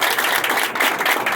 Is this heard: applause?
yes